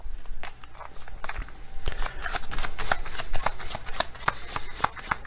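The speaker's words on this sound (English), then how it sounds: "So we'll get some more clarity here with some oracle cards." A deck of oracle cards being shuffled by hand: rapid, close papery riffles and soft taps in an uneven rhythm, with no talking.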